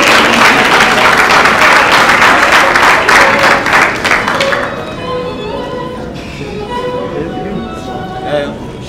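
Loud audience applause at a certificate ceremony held at the Rotana Hotel, dense clapping for about four and a half seconds, then tapering off under chatter and voices.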